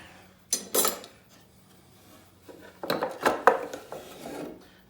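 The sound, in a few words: spoon and fork being handled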